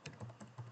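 Soft, quick keystrokes on a computer keyboard, several taps in a short burst while code is typed, faint and close with no talk.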